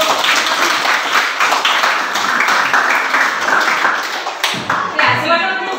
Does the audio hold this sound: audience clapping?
yes